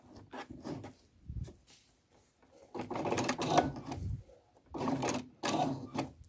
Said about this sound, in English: The needle is going directly into the seam here.